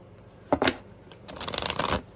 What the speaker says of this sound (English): Please shuffle out a card that represents their